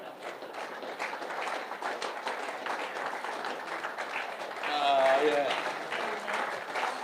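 An audience applauds to welcome someone onstage, a steady, moderately distant patter of clapping that swells briefly midway, with a voice heard over it.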